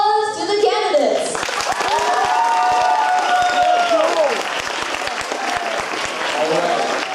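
A debate audience applauds the congressional candidates, a broad steady wash of clapping that swells quickly and holds at full strength, with some voices mixed in.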